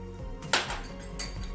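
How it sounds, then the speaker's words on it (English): A spoon stirs an egg into crab cake mixture in a bowl, giving two sharp clinks against the bowl over soft, close scraping. "we're gonna stir and make sure you get this egg incorporated all over"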